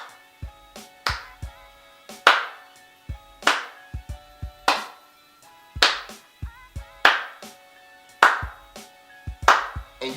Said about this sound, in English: when everybody else is clapping to a song